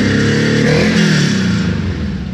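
A Volkswagen Beetle engine revs steadily up close after a throttle cable replacement, giving a loud, continuous mid-pitched rumble with no talk over it.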